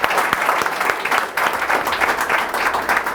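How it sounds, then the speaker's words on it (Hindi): A room of students at a hair and makeup academy event in Mumbai claps warmly, with brisk, lively applause holding steady throughout at close range. "दिल से तालियां।"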